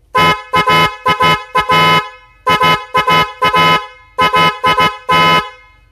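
A double snail horn for a motorcycle sounds in loud bursts of short and longer blasts, blaring close up with no talking.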